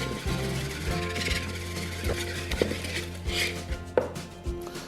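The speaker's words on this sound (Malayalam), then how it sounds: "അതിനുശേഷം നമുക്ക് ഒരു വിസ്ക് കൊണ്ട് നന്നായിട്ട് ഇത് മിക്സ് ചെയ്യുക." A whisk beats fried chicken marinade in a bowl, making a run of quick rhythmic clicks and taps against the side over a steady low hum.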